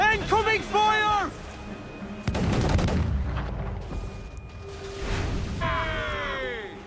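Naval combat in Assassin's Creed IV Black Flag: heavy cannon booms and rumbling gunfire roll across the ship, mixed with game voices, shouts and swooping tones.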